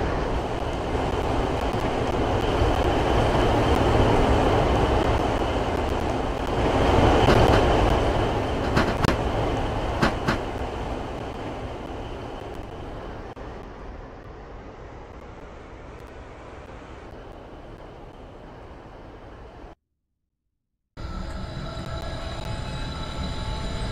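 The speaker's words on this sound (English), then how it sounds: "The train now approaching platform 2 is the 11:02 regional service to Belmont Green" A train rolls into a station platform, loud and rumbling at first with a surge around the middle, then fading to a lower steady roll; a short silence is followed by resumed station ambience.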